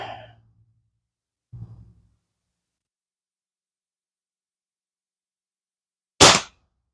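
A Beeman QB78D air rifle fires a Crosman Destroyer pellet with a single sharp, close crack near the end, after several seconds of near silence broken only by soft breaths.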